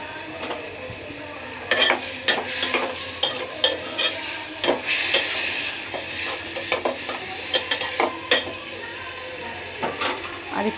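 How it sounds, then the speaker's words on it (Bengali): Curry stirred and sautéed in a pan, with a spoon scraping and clinking against the metal in quick irregular strokes over a steady close sizzle, with no talking. "একটু কষানো হলে ভালো হবে।"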